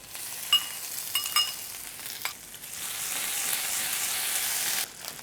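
Crushed ginger and green chili hit hot oil already seasoned with asafoetida and cumin, giving a steady close sizzle with a few sharp crackles and stirring clicks early on, then a broad even fry that stops abruptly near the end.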